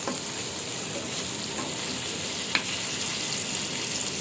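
Hilsa fish fries in a little mustard oil, a steady close sizzle with one brief clink partway through.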